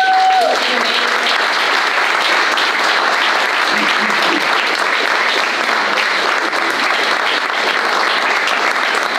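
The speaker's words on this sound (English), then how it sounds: "let's just give one last round of applause for Pia." Sustained, dense applause from a lecture audience fills the room at steady volume after an open lecture, with a brief voice at the very start.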